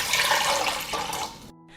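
Water, 1.5 liters, poured from a container into a cooking pot for a sugar and salt dressing, a steady splashing rush at close range that cuts off abruptly near the end.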